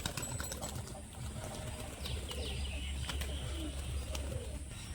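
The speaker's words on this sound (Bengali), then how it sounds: "একটা সাদা সবুজ মাদি দেখে নিন, হালকা কাইচি করা আছে, একটা মাদি পায়রা" A white-green female pigeon coos softly in a quiet setting, with low, faint calls and a brief flutter of wings.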